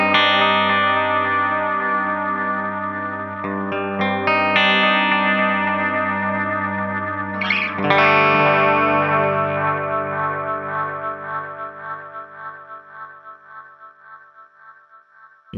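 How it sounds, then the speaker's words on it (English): Walrus Adriatic analog delay pedal with feedback near 77%, maximum BBD size and slight modulation, its repeats piling into a sustained, saturated self-oscillating drone with warbling pitch sweeps that slowly decay. "you can hear there's quite a bit of saturation in the tail of the Adriatic delay, especially when the feedback is that high"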